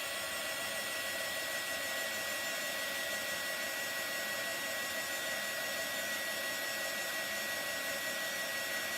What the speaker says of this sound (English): that heat tool is pretty hot